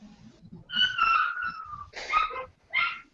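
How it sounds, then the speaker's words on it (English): A dog whimpers in drawn-out high whines, then gives a couple of short yipping barks, close and fairly quiet with no other sounds. "That dog needs serious attention right now."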